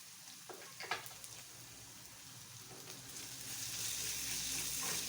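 Onions with a little garlic fry in a pan for Ethiopian enkulal ferfer, a continuous sizzle that grows louder and fuller toward the end, with a few scraping stir sounds early on.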